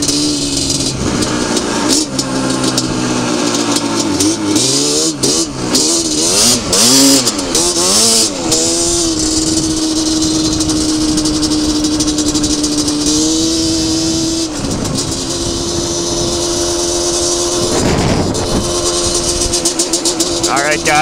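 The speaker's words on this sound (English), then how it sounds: "I'm just out for a little cruise on the Banshee while it snows here" A Yamaha Banshee ATV engine revs and drones loudly and continuously while riding through slippery snow, its pitch rising and falling with throttle changes and a rattly edge, as someone talks over it.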